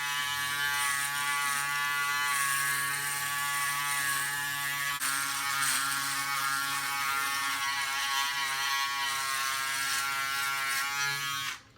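Wahl electric clipper fitted with a Comfort Close guard trimming a beard, giving a steady close buzzing whir with a slight change in pitch partway through, alone and continuous before cutting off at the end.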